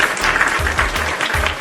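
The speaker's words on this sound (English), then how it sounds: "round of applause for the man himself" A round of applause for a guest at the close of a wrestling podcast: dense, steady clapping fills the whole stretch over a low, pulsing musical hum.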